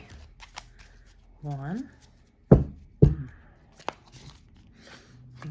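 Tarot cards being shuffled and cut during a reading: two sharp, close papery slaps a half-second apart, set among quiet speech from a single voice.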